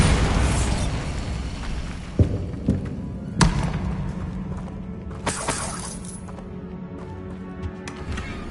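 A Bombarda spell explosion in the game Hogwarts Legacy, a loud booming blast with shattering debris, followed by a few sharper crashes and thuds that fade into a lingering rumble.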